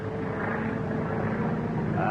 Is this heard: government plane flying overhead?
yes